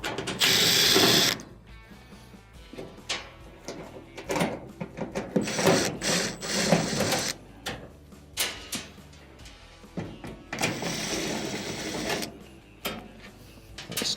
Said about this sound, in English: there are 3 Phillips screws that will need to be removed